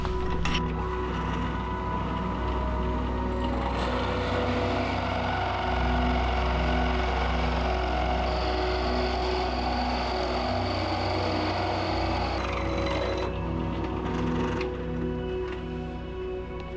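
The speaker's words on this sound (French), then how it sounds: "Pour ma part, je vais utiliser la perceuse à colonne." A drill press bores into pallet wood for a birdhouse, its steady motor hum shifting as the bit works through the wood for several seconds before the machine runs on alone.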